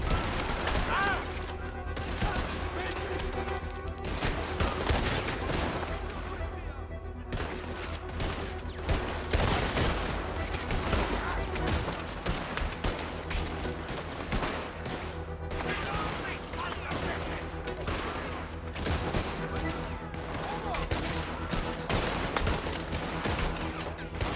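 Gunfire in the Western video game Red Dead Redemption 2, a steady stream of shots and crackling volleys over dense game noise and music, loud and continuous throughout.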